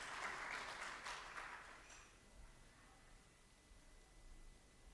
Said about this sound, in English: Let's give them a round of applause as they come to the stage